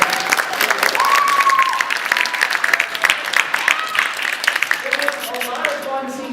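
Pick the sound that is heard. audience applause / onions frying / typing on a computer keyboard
audience applause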